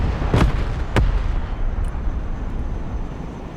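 Gunner firing at a target in the Broken Arrow war game: two sharp, loud cannon blasts about half a second apart, each trailing into a low rumbling battlefield din.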